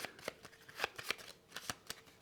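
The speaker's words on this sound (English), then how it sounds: "So I'm going to give those a shuffle as the AI's starting deck." A small deck of game cards for a SETI board game is riffled and shuffled close by in a quick series of soft, crisp flutters and taps.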